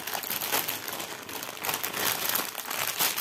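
Plastic bag of a cross-stitch kit crinkling and crackling as air is pressed out of it, close and continuous with irregular bursts, no talking.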